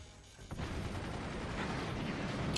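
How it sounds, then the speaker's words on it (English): Cannons fire in the Forts real-time strategy game, a dense continuous barrage of booming shots and rumble that keeps going and grows steadily louder to the end. "the cannons are firing"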